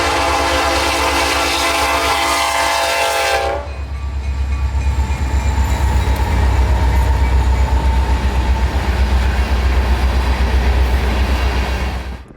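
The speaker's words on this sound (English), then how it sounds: "here came an empty ethanol train off of the Yeoman Sub with the same two Canadian National Locomotives" A freight train of two Canadian National locomotives hauling empty ethanol cars roars past at night with a heavy, steady rumble and rolling wheel noise, opening with a loud horn blast that cuts off abruptly.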